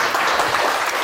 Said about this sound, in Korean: 우리 주님께 영광의 박수 올리겠습니다